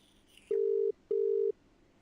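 A phone call ringing out: two steady, loud ringback tones of under half a second each, separated by a short gap, with quiet in between and no voices.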